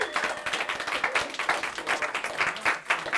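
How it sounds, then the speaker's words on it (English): An office team gives a round of applause for the sales team, steady close clapping from a group that lasts about three seconds, with no talk over it. "So round of applause to the sales team for that."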